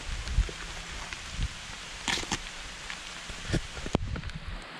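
Rain patters onto a cover sheltering an outdoor cooking spot, a soft steady drumming with a few louder drips and knocks scattered through it.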